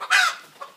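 One short, close squawking cluck from a laying hen in a chicken coop, followed by a fainter second note.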